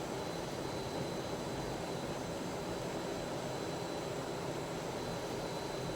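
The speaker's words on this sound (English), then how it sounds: "let's just full throttle this thing, get it off the runway" An A-4 Skyhawk jet engine at full throttle in Microsoft Flight Simulator 2020, a steady, dense roar with a faint high whine that holds constant and unbroken, with no talk over it.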